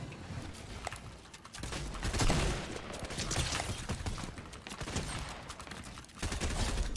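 Gunfire in the video game Fortnite, a faint and steady crackle of distant shots that keeps going without a break for several seconds.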